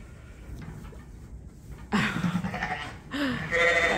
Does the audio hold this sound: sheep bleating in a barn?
yes